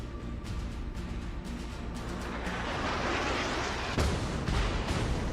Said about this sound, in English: here comes the Nuremberg shells